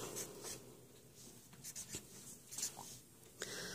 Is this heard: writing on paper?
yes